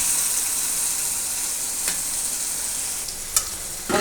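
Tomato masala frying in a pan, a loud continuous close sizzle with a few spoon scrapes and a sharp tap near the end, no talk.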